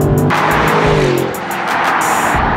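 A brand-new sporty car accelerating hard from 0 to 60, its engine roaring loud and close inside the cabin, rising through the revs with a brief dip at a gear change before surging again.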